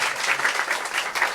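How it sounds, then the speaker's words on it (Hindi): A crowd at a teacher-training institute ceremony gives a guest a loud, dense round of applause, a brief burst of many hands clapping at once. "जोरदार तालियां से स्वागत किया।"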